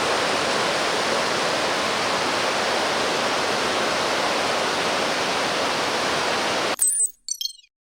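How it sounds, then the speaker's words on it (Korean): Rapids on the Hantan River in winter rush loudly and steadily as a broad, continuous wash of water noise, then cut off abruptly near the end, followed by a few brief clinking sounds. "한탄강 무리길의 다채로운 매력과 기운찬 물소리를 감상해 보시겠습니다"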